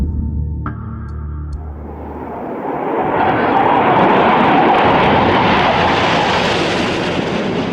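MiG-29 and Su-27 fighter jets fly an aerobatic display. After a short tonal lead-in, a broad jet roar swells within a few seconds and holds loud and sustained to the end, with no talking.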